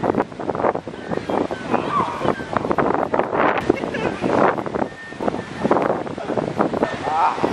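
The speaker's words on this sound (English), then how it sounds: "Super windy out here." Strong wind at Santa Monica, Los Angeles, buffets the microphone with loud rumbling gusts throughout, and voices talk underneath.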